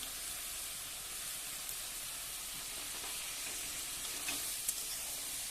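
Banana stem and shrimp simmering in a pan with a little added water while being stirred, a steady soft sizzle and hiss with occasional faint scrapes of the spoon, close and continuous with no talking.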